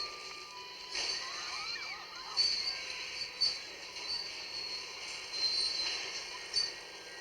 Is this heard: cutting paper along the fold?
no